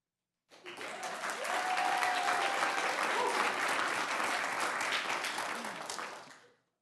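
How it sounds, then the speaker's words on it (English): Sustained applause and cheering from a cheering section at a school district board of trustees meeting, a dense, steady burst of clapping lasting about six seconds before fading out. "We brought a cheering section."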